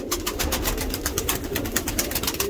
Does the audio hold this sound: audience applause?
no